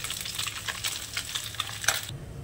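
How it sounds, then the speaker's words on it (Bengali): Small river fish frying in oil in a pan, a steady crackling sizzle lasting throughout, with a few sharper spits and pops near the end before it cuts off. "মাছগুলো এভাবে সবগুলো ভেজে নেব।"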